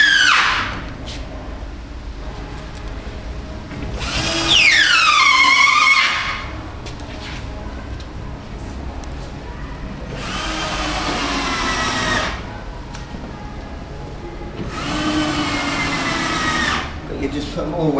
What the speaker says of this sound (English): all it needs you to do now is just screw the back in